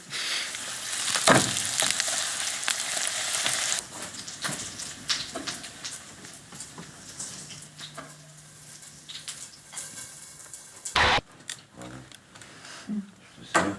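Duck breast (magret) sizzles and fries in a pan, a loud hiss at first that settles into softer crackling under people talking.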